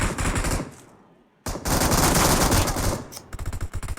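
Gunfire in the PUBG Mobile video game: a dense, loud burst of automatic fire, a brief pause, then another sustained burst that breaks into rapid separate shots near the end.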